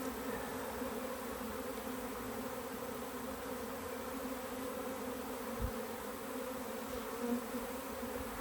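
Honey bees buzz steadily and densely at a crowded beehive that is getting ready to swarm, with drones present; a continuous, even drone fills the scene from close range.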